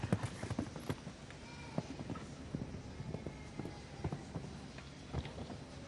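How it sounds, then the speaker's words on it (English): Hooves strike the arena footing during show jumping at the FEI World Equestrian Games, a steady run of soft, close thuds with scattered sharper hits in an otherwise quiet arena. "Horse jumping beautifully today."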